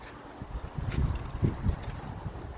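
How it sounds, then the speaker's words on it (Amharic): Strong wind blows outdoors, buffeting the microphone in low, rumbling gusts that swell and fade over a constant airy hiss. "ንፋስ ነው ንፋስ በኃይለኛው ንፋስ አለ።"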